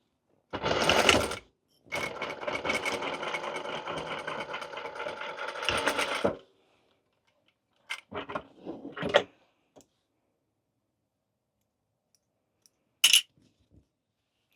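A sewing machine stitches a dart on a witch hat with cat ears in two loud runs, a short burst then a steady five-second whir, followed by scattered clicks and handling noises with silence between.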